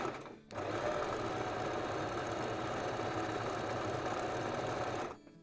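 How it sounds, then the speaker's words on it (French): A sewing machine stitching a buttonhole without a dedicated presser foot, running in a steady, continuous mechanical whir that starts after a brief pause and stops near the end. "on va laisser la machine coudre"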